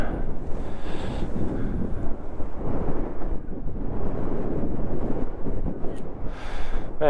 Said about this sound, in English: Man, it's fucking windy.